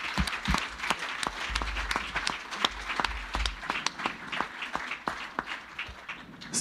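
A church congregation claps and applauds steadily throughout, a dense crowd of hands with occasional cheers, fairly loud and sustained in a large worship room.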